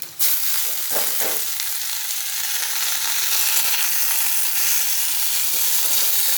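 Radish greens and potatoes fry in a pan with a loud, steady, dense sizzle that runs continuously after a brief start, with faint stirring scrapes underneath and no voices.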